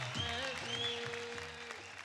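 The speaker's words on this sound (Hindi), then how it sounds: "एक बार जोरदार तालियां हो जाए." Sustained applause from a TV dance-show studio audience, steady and fairly loud, with a host's voice carrying over it.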